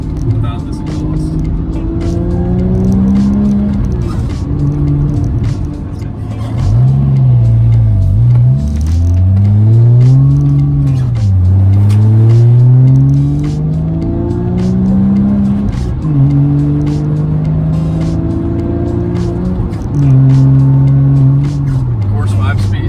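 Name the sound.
Porsche GT3 with Fabspeed Supercup exhaust accelerating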